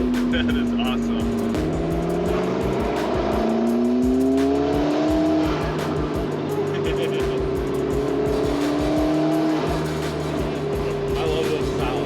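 A heavily tuned 750 whp twin-turbo McLaren MP4-12C pulls hard through the gears, engine notes rising in repeated sweeps with shifts between them and turbo blow-off whooshes, loud and up close.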